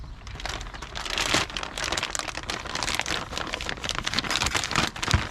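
Plastic package holding hoses and clamps for an oil catch can being torn open, a close, continuous crinkling and crackling with uneven bursts of rustle throughout.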